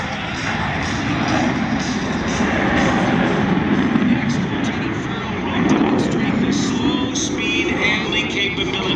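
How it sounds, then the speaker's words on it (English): An F-18 Super Hornet makes an inverted whisper pass at an air show with its throttles at idle, a broad, steady jet rush with no sharp peaks, heard alongside an announcer's voice. "throttles come back to idle, aircraft goes upside down"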